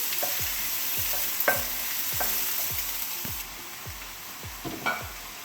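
Onions sauté in a pan for chicken curry under a constant close sizzle, with a spatula scraping the pan in a regular rhythm about every half second.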